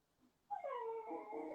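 A dog whimpers and whines in a sustained, rising and falling tone, fairly close and clear, longing to be let outside; a faint sound precedes it before the whine begins abruptly.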